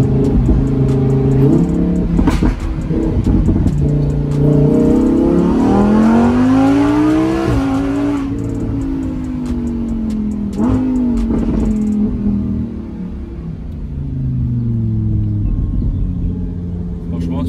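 Lamborghini Huracan in Strada mode driving on a road, its engine rising and falling through smooth accelerations and gear changes, a steady close rumble heard from inside the car throughout.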